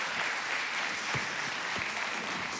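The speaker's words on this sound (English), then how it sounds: "give them a humongous round of applause right now" An audience at a men's conference gives a round of applause, a fairly quiet wash of clapping with a few louder thumps partway through.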